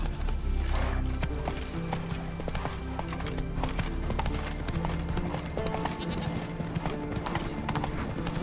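Roach the horse galloping in The Witcher 3, a loud, steady clip-clop of hooves running throughout over a low game soundscape.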